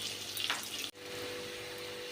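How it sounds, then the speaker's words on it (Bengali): Pointed gourd frying in a pan of oil gives a steady, close hiss that stays even throughout, broken once by a brief dropout partway through. "আমার পটলগুলো এবার এখানে ভাজা চলছে।"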